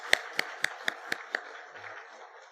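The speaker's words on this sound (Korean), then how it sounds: "우리 소라 어린이와 우리 이균 장로님에서 다시 한번 박수해 주시기 바랍니다" Applause from a church congregation at a Sunday Easter service: six sharp, evenly spaced claps ring out close and clear, then the sound trails off into quiet room tone.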